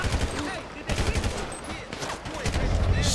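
Gunfire in Grand Theft Auto V crackles in rapid, dense bursts of close shots over a shouting voice, a fusillade continuing throughout.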